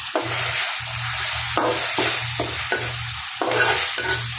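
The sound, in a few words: aire fish frying with spices and salt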